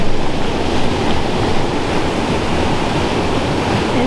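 Excess water rushes out of a canal lock's overflow channel, carrying water away from the upper pound: a loud, steady broadband roar of churning flow, close and continuous, with no voices.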